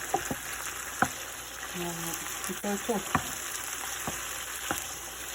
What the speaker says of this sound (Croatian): I sad ću čekati nek samo još malo ovo pretrži